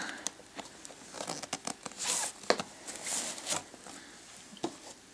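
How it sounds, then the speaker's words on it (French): Unpacking the retail box of a Star H4300 Android smartphone, with close crinkling plastic, rustling cardboard and a few sharp tearing sounds, no talking. "Donc nous allons le déballer"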